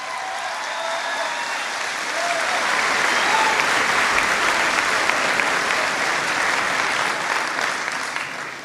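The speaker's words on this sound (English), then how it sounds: "Give her a big round of applause" Loud, dense applause from a big crowd at a Barack Obama New Hampshire primary speech swells and holds steady throughout, a continuous wash of clapping.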